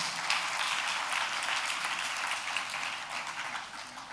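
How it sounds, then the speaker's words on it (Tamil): A congregation claps for the Lord during a Tamil church service, a steady wash of many hands spread evenly through the whole stretch, dense and continuous with no voice on top. "கைதட்டுங்க ஆண்டவருக்கு, ஆண்டவருக்கு கைதட்டுங்க."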